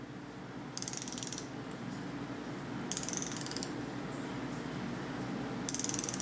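Ratchet wrench tightening the cam bolts on a Nissan KA24DE cylinder head during a 240SX turbo engine build: three separate bursts of quick metallic clicking, slow and evenly spaced, over a steady background hum.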